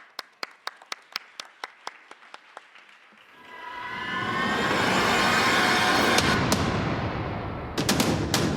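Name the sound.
audience applause at a startup pitch event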